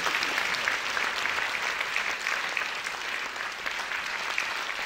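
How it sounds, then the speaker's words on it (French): An audience applauds at a ceremony where an honorary medal is presented by a French town, a dense, even wash of clapping that holds steady from start to finish with no voices over it. "On peut vraiment applaudir David Serrault et je lui remercie sa médaille."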